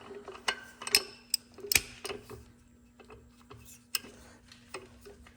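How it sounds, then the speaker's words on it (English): A 21 mm ratchet wrench turns on an injector bolt of a Bobcat T190 skid steer, giving scattered sharp clicks and short bursts of ratcheting, close up, over a steady low hum with no talk. "I ratchet here."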